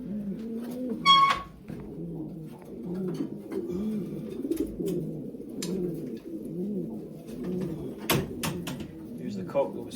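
Old racing pigeons coo in a loft while being basketed for a race, low rolling coos repeating steadily throughout, close by, with a brief sharper call and a few knocks or clatters; someone speaks intermittently over them.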